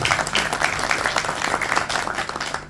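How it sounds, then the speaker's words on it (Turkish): A crowd at a neighbourhood headmen's association meeting in Pendik, Istanbul, claps vigorously and close by. The applause is loud and continuous with slight surges in intensity and no voices heard. "Lütfen kendinizi bir alkışlar mısınız?"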